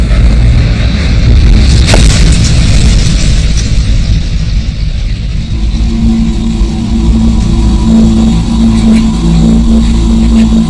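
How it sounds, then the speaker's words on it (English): Airstrikes on Taliban hideouts heard as loud, heavy booming explosions with deep rumbling that rolls on continuously, one sharp blast standing out early amid the roar. "A series of airstrikes destroy multiple Taliban hideouts"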